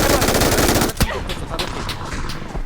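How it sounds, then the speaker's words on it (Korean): Gunfire in the battle royale game PUBG: Battlegrounds, sustained loud machine-gun fire followed by a sharp crack and scattered single shots, close and continuous. "제발 뒤에서 쏜다"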